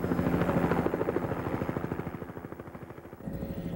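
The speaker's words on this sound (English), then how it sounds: "A helicopter picks you up and takes you on a scenic 10 to 12 minute ride" A helicopter's rotor chops in a steady rapid pulse, loud and close, with a low engine drone underneath and no voices.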